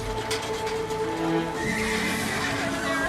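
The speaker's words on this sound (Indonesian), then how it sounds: "Kuda untuk Salomo didatangkan dari Misraim dan dari Kewe" A horse whinnies loudly over a busy background with other animal and crowd-like noise, the neigh rising and rolling across the whole few seconds.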